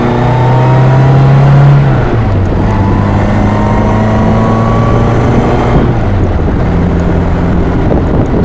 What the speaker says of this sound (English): I slow down a little bit, I'll shift into second